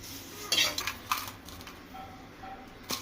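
A spoon stirring curry leaves being dry-roasted slowly on low heat in a pan for chutney powder, producing a few light scraping clinks and soft rustling against the metal, close and fairly quiet.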